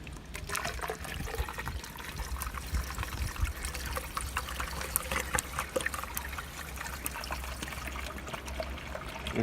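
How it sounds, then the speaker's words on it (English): Liquid pours and trickles through a funnel into a large hose on an OMC 3.0 boat engine being winterized, a steady gurgling stream with small splashes and drips, close and fairly quiet. "you're going to pour into that big hose until it comes out of that main port."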